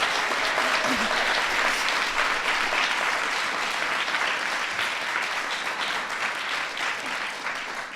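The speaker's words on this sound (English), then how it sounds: "let's give Braden a big round of applause for that." Steady, loud applause from a crowd of children and adults at the Kids' State Dinner, dense continuous clapping that fills the whole stretch and tapers only slightly at the end.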